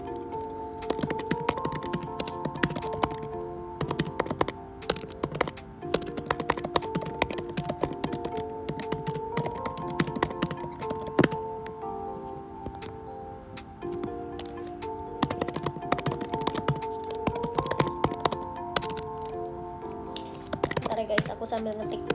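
Rapid, uneven keyboard typing clicks run throughout, close and crisp, layered over soft mellow music with sustained tones.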